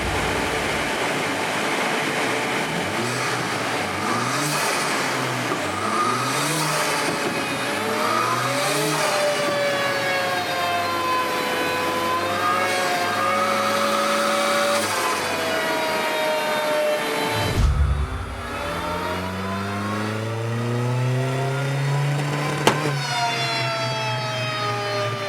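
Ford Fiesta ST with a bigger turbo running on a dyno, engine roaring loud and steady as revs climb and dip through repeated pulls, a brief drop near 18 s before it rises again.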